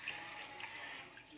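Water is poured steadily into a pot of lemons and sugar to make homemade juice, a faint continuous splashing stream without pauses.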